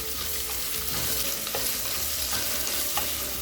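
Long-sliced large onion fries in hot oil in a pan for Tamil brinji rice, a close, steady sizzle broken by a few soft scrapes as a spoon stirs it.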